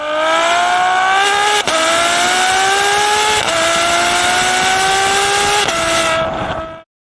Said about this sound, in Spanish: Saliendo por el tubo de escape.